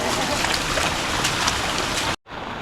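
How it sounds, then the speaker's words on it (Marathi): Heavy monsoon rain pours down on rice paddy fields in Konkan in a dense, steady roar, then cuts off abruptly near the end. "कोकणात भरपूर पाऊस पडतो आहे आणि या भर पावसात आमची लावणी चालू आहे"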